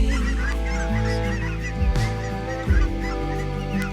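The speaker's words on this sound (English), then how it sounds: "Canadian geese flying over" Canada geese honking as they fly over an enchanting coastal landscape at San Josef, Canada, loud and near, with a few sharp honks rising above a steady low background hum.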